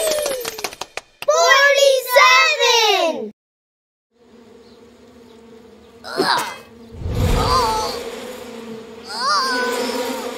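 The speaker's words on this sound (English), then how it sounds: "Francis upset the beehive and was chased by 47 angry bees." Cartoon bees in the Endless Numbers educational game buzz in short, loud bursts between pauses, mixed with a voice and playful game sounds.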